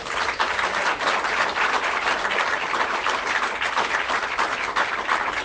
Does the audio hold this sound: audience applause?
yes